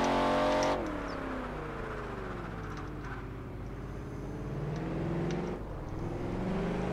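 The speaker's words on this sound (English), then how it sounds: "It doesn't sound right when you ease the throttle in." A car engine in the Project Gotham Racing 4 video game revs and holds a steady drone, with the pitch easing down and then climbing again as the throttle changes, loud and close.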